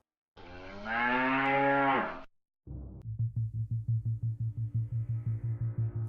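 A voice imitates a cow, giving one long drawn-out moo, then after a pause a rapid pulsing series of lower repeated moo-like bursts, loud and close, with no other sounds.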